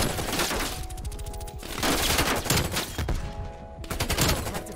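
Krig 6 assault rifle firing in Call of Duty: Black Ops Cold War, with rapid automatic bursts: a long burst, a brief pause, then further sustained bursts, loud and close, with no talking.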